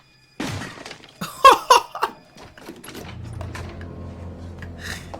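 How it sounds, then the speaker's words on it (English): A fist punches straight through a wooden door in a TV drama, giving sharp cracking and splintering impacts amid scattered clatter. A low steady hum follows. "She just punched straight through a wood door."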